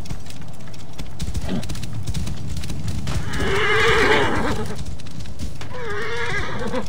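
In the video game Assassin's Creed Origins, horses whinny loudly twice over a continuous rumble of hooves pounding at a gallop, close and energetic.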